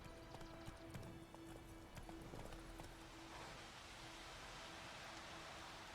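Horse hooves clip-clop at a gallop in The Witcher 3, a steady rapid rhythm under a constant wash of game ambience and music, heard alone without talk.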